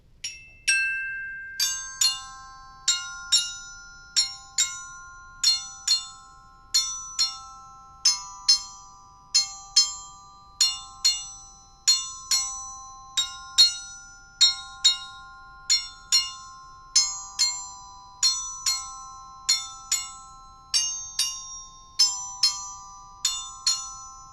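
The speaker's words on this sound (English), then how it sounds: "we're going to move right over to the Glock or the bells." Bright glockenspiel notes struck with mallets ring out one at a time in a steady melodic line, each tone decaying cleanly against silence.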